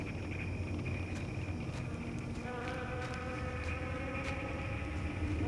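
Bees buzzing outdoors, a steady droning hum with overlapping tones that thickens in the second half, fairly close.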